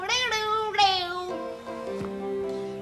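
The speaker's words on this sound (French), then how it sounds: "Miaou, miaou." Cartoon cat meowing in a 1987 French animated Three Little Pigs film, several drawn-out, wavering meows one after another, clear and close with no talk over them.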